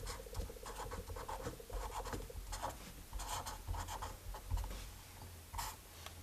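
Steady scratching of a pen or pencil while a maths solution is written out, close and continuous with short strokes and pauses, alone without talk.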